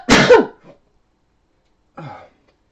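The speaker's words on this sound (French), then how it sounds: "Je crois que je vais éternuer." A single sharp sneeze bursts out close to the microphone, followed by silence and then a short, softer breathy vocal noise.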